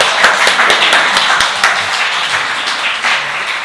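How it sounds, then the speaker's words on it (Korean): A church congregation at a weekday worship service gives a round of thanks, individual hand claps standing out sharply and close over a bed of softer, scattered clapping that slowly thins. "박수 드릴까요?"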